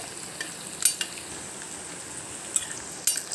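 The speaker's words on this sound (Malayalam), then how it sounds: "കുറച്ച് എണ്ണയിലേക്ക് പച്ചമുളകും ഇഞ്ചിയും വെളുത്തുള്ളിയും ഇടുക എന്നിട്ട് നന്നായി വറുത്ത് കോരുക" Green chilli, ginger and garlic fry in sesame oil with a soft, steady sizzle, broken by a few sharp utensil clicks against the pan.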